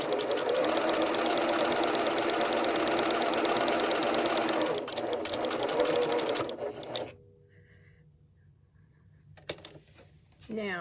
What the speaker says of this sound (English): I don't sew all the way around because I get less shifting of my fabric that way.